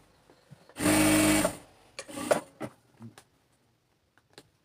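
A sewing machine stitching pants runs in one loud, steady burst of about a second, followed by a few brief clicks and handling noises of the fabric and machine.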